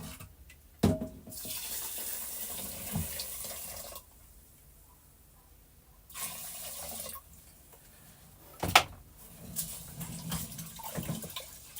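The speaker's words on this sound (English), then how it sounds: "Alright, so I'm gonna get some water now to wash the rice." Tap water runs into a sink to wash rice, coming in bursts of broadband splashing separated by quieter pauses, with a couple of sharp clanks from the sink.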